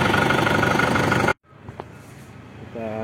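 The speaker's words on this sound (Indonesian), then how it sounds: "Lihat posisi mesin masih menyala." A car engine idles loud and steady for over a second, then cuts out abruptly, leaving faint rumble and brief clicks in quieter surroundings.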